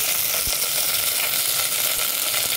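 Mint and coriander sizzling in ghee with onion and green chilli in a pan for soya biryani, a steady loud frying hiss with faint stirring scrapes.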